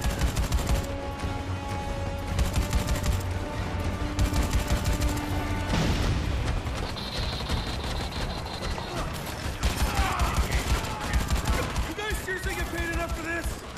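Rapid, loud gunfire in the video game Dead Rising 4, with repeated shots and bursts continuing throughout, a heavy boom near the middle, and game sounds mixed in.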